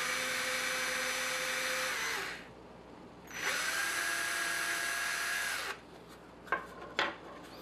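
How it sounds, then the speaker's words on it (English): Power drill boring holes into a SkunkBox case, two sustained high whirring runs of a few seconds each, close and loud, then a couple of brief bursts. "Let's get your drill bit."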